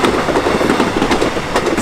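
A train rolls past close by, its wheels beating a loud, steady clickety-clack over the rails with faint squeals, with no voices.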